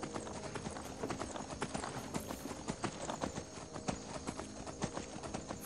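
Horse hooves clip-clop in a steady galloping rhythm in Skyrim on PS3, loud and close amid busy game sound effects.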